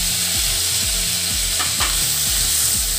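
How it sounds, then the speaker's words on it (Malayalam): Chopped tomatoes hit hot oil with frying clam meat for a Kerala-style roast, giving a loud, close sizzle with repeated scraping stirs of a spatula in a steady rhythm and no talking. "ഇതിലേക്ക് നമ്മുടെ തക്കാളി അരിഞ്ഞ് വെച്ചിട്ടിടാം"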